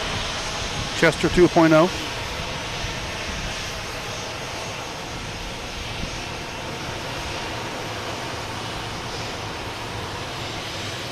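A loud Alaska Airlines jet airliner rumbles steadily at Boston Logan. A brief voice breaks in near the start, then the engine noise carries on alone.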